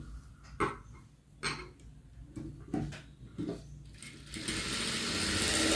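A sewing machine stitches a blouse sleeve piece in short stop-start bursts, then settles into a louder, steady whirring run toward the end, heard close up with no talking.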